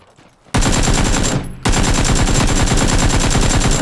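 Loud full-auto AK bursts in the video game PUBG, a rapid evenly paced stream of close shots broken by a short pause before firing resumes steadily to the end.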